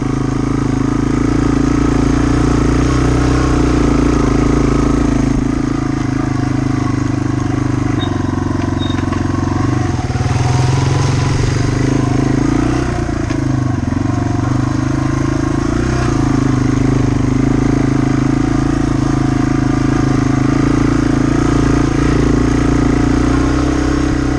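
A Yamaha TW200 motorcycle with big tires cruises quietly along a trail at a steady low engine drone, close and continuous for the whole stretch with little change in pitch.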